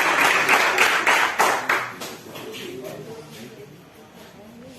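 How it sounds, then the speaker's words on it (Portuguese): A church congregation claps together during a praise and worship service, a rapid burst of hand clapping that fades out after about two seconds, followed by quieter room sound and murmuring. "Uma salva de palmas para o Senhor."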